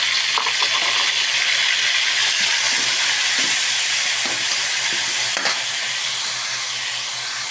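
Tomatoes fry loudly with garlic and onion in a pan, a dense steady sizzle and hiss with occasional stirring scrapes, close and without speech.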